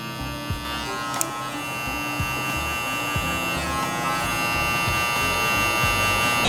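Hair clippers buzz steadily and close by through a self haircut taper, the motor drone continuous with small bumps as the blade works through hair and lever adjustments.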